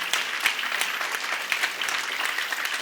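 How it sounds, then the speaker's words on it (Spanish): A church congregation breaks into clapping during a Spanish-language sermon, a dense steady applause lasting a few seconds, close and lively with no talk over it. "dale un aplauso a Cristo"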